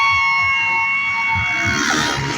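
Loud, sustained roar of a crowd cheering and screaming at a motocross stunt show, a dense wash of voices with steady high tones running through it and no clear talk.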